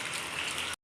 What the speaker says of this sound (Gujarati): વરસાદ ઉભો રહેવાનું નામ નથી લેતો